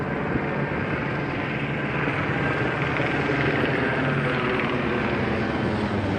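Helicopter flying overhead during a 2020 street protest, a continuous rotor and engine drone that stays loud and steady throughout, with no talk.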